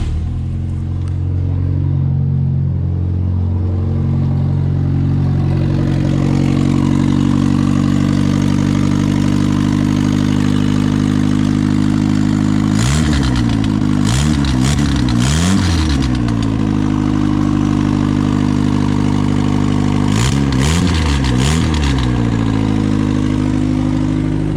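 A turbocharged Honda Civic engine on a budget build starts on first crank and settles into a steady, loud idle, with two short bursts of revving partway through.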